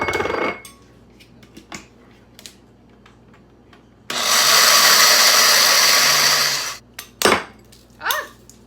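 A blender grinds roasted peanuts for Lao sukiyaki sauce in one loud, steady whir lasting a couple of seconds, bracketed by quiet clatter and knocks of kitchen handling before and after.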